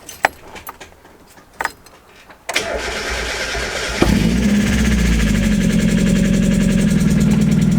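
A Mazda Miata engine cranks and fires after a clutch install, preceded by a few clinks and clicks, then settles into a steady, loud idle close by.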